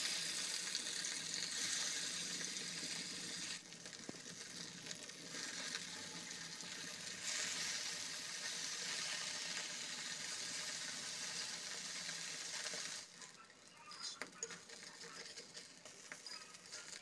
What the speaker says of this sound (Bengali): এবার তেল গরম করে মাছগুলো ভেজে নিচ্ছি।